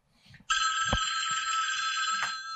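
A telephone bell rings loudly and continuously on an Italian radio call-in show, a steady close ring lasting about two seconds with a brief low thump near its start.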